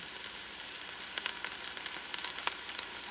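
Minced garlic frying in a pan over medium heat, a steady soft sizzle with small crackling pops, heard up close and with no talk.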